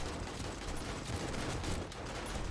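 Sustained gunfire in the zombie survival game 7 Days to Die, a dense continuous rattle of shots that fills the whole stretch at a steady, fairly loud level.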